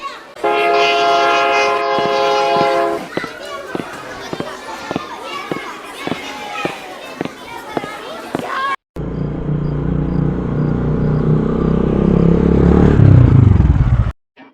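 A train sound effect for a Bengali horror audio drama: a long, loud horn blast over steady, rhythmic wheel clatter on the rails, then after a brief cut a heavy, swelling rumble of the passing train.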